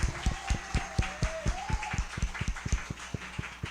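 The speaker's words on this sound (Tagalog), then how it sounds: "Lahat tayo pumalakpak. Pumalakpak ang may 2 kamay." A church congregation in La Union claps hands in a steady, evenly spaced rhythm, sharp individual claps ringing out over a faint sustained tone, close and moderately loud.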